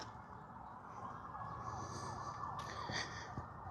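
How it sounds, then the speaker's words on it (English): Distant sirens wail faintly across a New Orleans neighborhood, their rising tones surfacing over a steady background hum, strongest in the second half. "do you hear how many sirens and stuff are happening in this neighborhood all the freaking time?"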